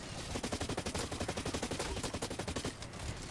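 Rapid automatic turret gunfire in the Blacklight Retribution shooter on PS4, a dense, steady burst of shots firing continuously for several seconds before easing off near the end.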